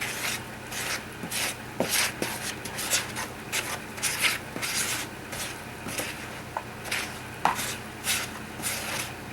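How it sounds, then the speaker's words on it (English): A spoon works through sticky, wet biscuit dough in a bowl, giving repeated scraping, rubbing strokes in an uneven rhythm, close and fairly quiet, with no talking. "get your spoon, mix this around"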